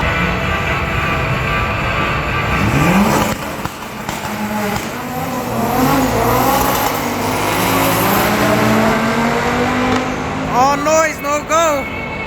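Drag racing cars, a Camaro with an LS engine and a Honda, at Beech Bend Raceway during an import meet: loud sustained engine roar with rising revs and gear changes, then quick high revving bursts near the end, with voices under it.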